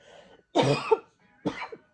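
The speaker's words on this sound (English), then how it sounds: "I haven't got rid of this cough yet that I've had for 2 months" Two harsh coughs from a person with a cough lasting two months, close and loud, separated by a short pause, with a faint rasp at the very start.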